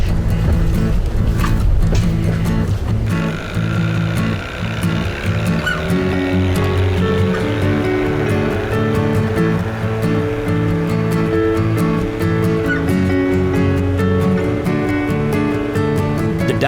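A steady motorboat engine drones throughout on a short dive trip off Portugal, with rushing water and wind noise over a low rumbling hum; loud and continuous, no talking.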